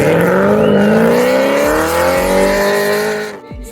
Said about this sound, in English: You can hear the cars going around the track as we speak